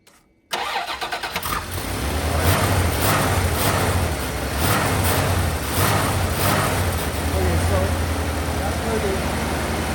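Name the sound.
Dakota truck engine revving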